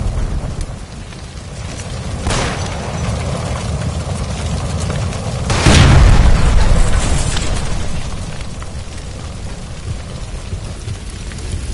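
A gas line bursts after being shot in L.A. Noire, a sudden loud blast with a rumbling tail that swells and fades beneath a constant rain-like hiss and low background noise.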